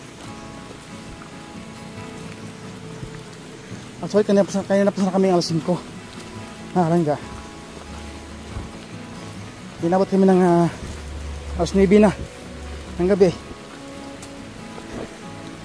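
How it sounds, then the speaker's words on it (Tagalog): Heavy rain pours steadily at night in Daet, a constant wash of drumming water heard throughout, with someone speaking over it in several bursts. "Kasi lakas ng ulan, ang tagal pati tumigil."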